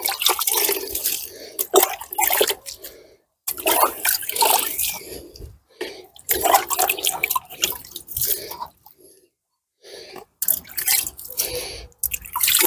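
Water splashes and drips onto newly planted tomato seedlings in repeated pouring bursts with short silent gaps between them, close and fairly loud.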